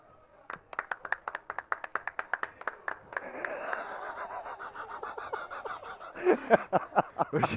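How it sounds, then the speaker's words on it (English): A run of roughly twenty crisp, evenly paced hand claps rings out for a pool player's shot at an 8-ball money match, then gives way to murmuring voices and laughter with a few more claps near the end. "We've just given him a clap there."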